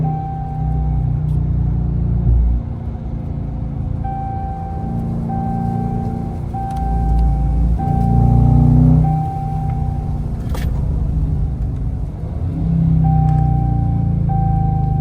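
Deep, rumbling Hemi V8 active exhaust of a Dodge Charger R/T idling and blipping, with a low throaty drone that swells in a few revs before settling back.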